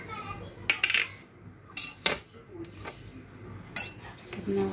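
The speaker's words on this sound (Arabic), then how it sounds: "نحرك هاد النواشف." Dry ingredients for baghrir, including semolina and 7 grams of yeast, are stirred in a bowl, giving scattered light clinks and scrapes of a utensil against the bowl at close range.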